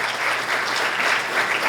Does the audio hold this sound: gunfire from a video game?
no